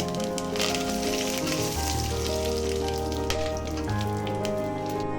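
Curry leaves and spices sizzle in hot oil in a pan for vegetable pulao, giving a steady, dense crackling hiss that carries on throughout beneath a low background hum.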